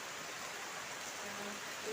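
Steady rain falls on a rainy evening, a dense, even hiss that stays constant and close without breaks or distinct drops.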